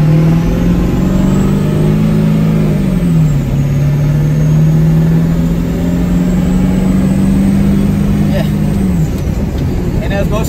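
A Ford 7.3 diesel tow truck engine revs up close and loud, holding a steady rumbling drone that rises and settles over ten seconds, with someone talking over it.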